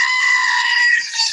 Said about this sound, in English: So they have now the screaming goat